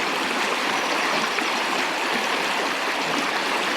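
The Water of Leith river in Edinburgh flowing close by, a steady, loud rushing and babbling of water with no voices.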